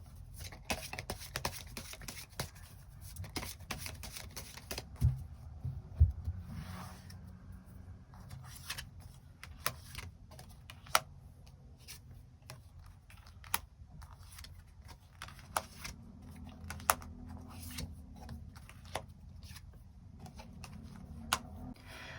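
Tarot cards are shuffled and drawn in a quiet room: soft papery riffles and sharp small clicks and taps come in irregular bursts throughout, close and fairly faint, with no voices.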